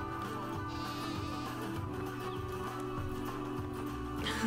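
Sheep in a zoo habitat at the Appalachian Zoo, bleating over a steady, busy background with music-like tonal layers; the calls blend into continuous ambience at moderate level.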